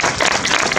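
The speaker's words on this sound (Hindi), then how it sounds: "जोरदार तालियां" A brief loud burst of audience applause at a public ceremony in Jammu and Kashmir, dense clapping from a crowd heard close for under a second, with no talking.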